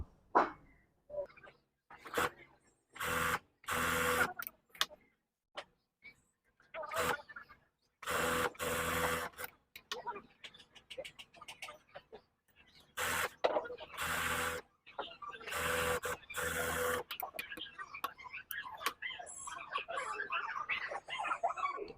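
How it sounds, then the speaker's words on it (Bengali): A sewing machine stitches the side seams of a salwar in repeated short bursts of rapid mechanical whirring separated by brief pauses, with a voice talking in between. "এবার আমরা দুই পাশে সেলাই করব এবং নিচে সেলাই দেব"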